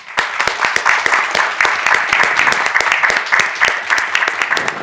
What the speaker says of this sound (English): maybe we could give her a good round of applause for all of her leadership here in Southern Nevada